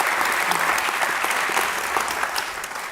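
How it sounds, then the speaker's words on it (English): A seated audience applauds steadily at a talk with a TV showrunner and actress, dense clapping close and loud that tapers off slightly at the end. "just give them a round of applause just because"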